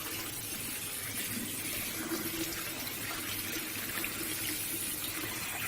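Sunflower seeds rinsed under a running tap into a sink, a steady close hiss of flowing water with light splashing and no pauses.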